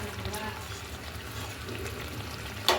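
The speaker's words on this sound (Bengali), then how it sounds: "তো এই মশলাটা কষতে শুরু করে দিয়েছে।" Spice paste frying in a pan for cauliflower-potato biryani: a quiet, steady sizzle with soft stirring scrapes, ending with a brief sharper clink.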